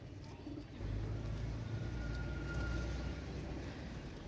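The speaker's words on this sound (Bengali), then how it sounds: "একজোড়া কোবরা টেডি কবুতর" A pair of cobra teddy pigeons coo in low, continuous, rolling calls close by, over steady background noise, with no voices.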